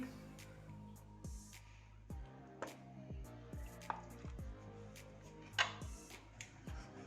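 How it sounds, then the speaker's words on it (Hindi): Knife chopping chicken nugget ingredients on a board, a series of soft, irregular thuds and taps with wet squishy touches, close and quiet, no talking. "अब इसको मैं चॉप करती हूँ।"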